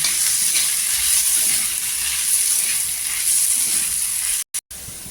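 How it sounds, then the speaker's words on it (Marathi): Potato chutney sautéing in oil on a griddle over low heat, a steady, close sizzling hiss that runs without a break before two brief dropouts near the end. "पूर्णपणे 10 मिनिटं छान असा तव्यावर आहे ना परतून घ्यायचा"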